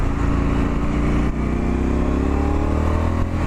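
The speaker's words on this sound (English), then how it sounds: "Listen to the sound of that bike." A Triumph Street Scrambler motorcycle fitted with new exhausts rides along, its engine note loud and steady with a slowly rising rumble throughout, close and alone.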